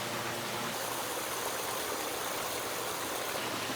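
Pond water pouring steadily over a biological waterfall filter, a constant close hiss and rush of splashing flow with no breaks.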